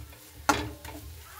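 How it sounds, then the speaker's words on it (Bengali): A spatula stirs lentils in a frying pan while radish greens cook, giving one quiet scraping clatter midway and a fainter second scrape just after. "তো আমি কিন্তু অনবরত এইভাবে নাড়তে থাকছি বন্ধুরা।"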